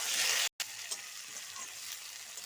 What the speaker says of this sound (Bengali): ওলকপি দিয়ে আমি আরো 1 থেকে 2 মিনিট মতো ভেজে নেব।